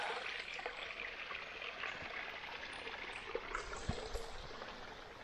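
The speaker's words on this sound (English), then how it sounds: "We stopped by this little brook here." A small brook on the Appalachian Trail near Mount Moosilauke flows with a soft, steady trickle and gurgle, faint and close, with a few light splashes and no talking.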